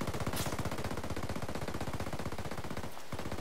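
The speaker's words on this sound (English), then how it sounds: "I hear gunfire." Rapid automatic gunfire in a Ghost Recon video game rattles in a dense, continuous burst, loud and steady for several seconds with a brief gap near the end.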